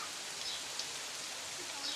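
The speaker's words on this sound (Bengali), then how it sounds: "প্রায় 2 ঘন্টা ধরে বৃষ্টি হচ্ছে বন্ধুরা" Heavy rain from a storm falls continuously around a house, a steady even hiss of drops with no pauses, moderately loud.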